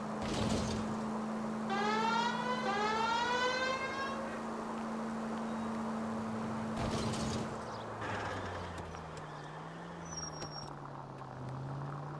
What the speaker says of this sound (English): If you're gonna drive like this, at least use the siren.